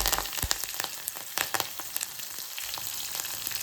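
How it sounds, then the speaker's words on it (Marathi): Green chillies and curry leaves crackle and spit in hot tempering oil after browned garlic, a soft steady sizzle broken by sharp pops and spatters. "आता त्याच्यात आपण हिरवी मिरची घालूया आणि आता कढीपत्ता घालूया"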